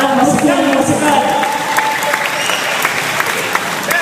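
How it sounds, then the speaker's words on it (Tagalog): An audience applauds in a crowd, a dense continuous clatter of clapping hands with some background crowd noise, fairly loud and close, while a voice talks briefly over the start. "Palakpakan tayo."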